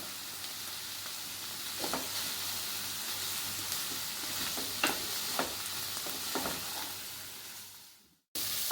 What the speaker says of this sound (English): It's been almost a minute since I've been sauteing all my veggies